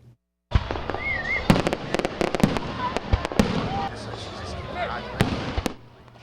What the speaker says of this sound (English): Fireworks lit up the skies in Flint, Saginaw, and cities and towns all across the country last night